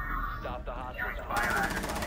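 Gunfire punches through a wall in the Rainbow Six Siege video game, rapid loud shots in quick bursts mixed with excited voices talking over the action.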